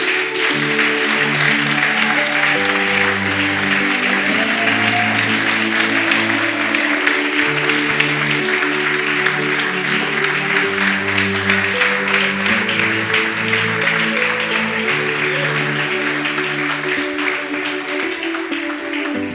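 Church congregation applauding, dense sustained clapping under tonal music for the full stretch, loud and steady.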